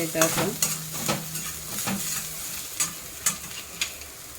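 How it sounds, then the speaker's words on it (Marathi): Asafoetida, coriander, cumin and fennel seeds sautéing in hot oil for mirchi vada, heard as a soft steady sizzle with repeated light scrapes and taps of a spoon stirring the pan. "हिंग धना जिरे बडीशेप ही टाका है चल परतून"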